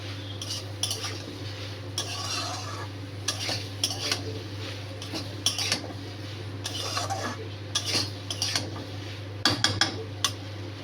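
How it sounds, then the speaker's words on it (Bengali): Tomato fries in a pan over gas while a utensil stirs it, giving frequent light clinks and scrapes against the metal over a faint sizzle, close and without talk. "এই যে টমেটোটা এখন এতে অ্যাড করে দেবো, দিয়ে ভালো করে কষিয়ে"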